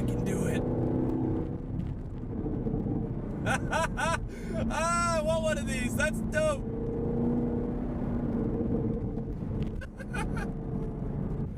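A 2019 Chevrolet Camaro SS V8, dropped into third gear, revs up as a steady engine drone builds into a loud, climbing rev from the cabin, with people talking over it and an excited remark near the end.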